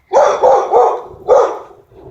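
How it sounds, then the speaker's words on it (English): Dogs barking at night, several sharp barks in quick succession, close and loud, followed by a fainter whine. "My dogs are tripping."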